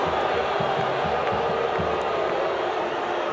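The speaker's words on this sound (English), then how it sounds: "I haven't seen this crowd this rowdy in quite some time." A rowdy crowd roars at a Sacramento Republic FC soccer match against Charleston Battery. The steady stadium noise holds for the whole clip, with rhythmic chanting or clapping in the low range.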